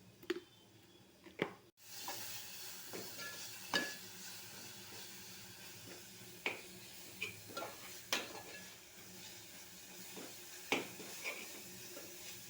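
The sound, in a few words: paneer curry spices frying in oil while being mixed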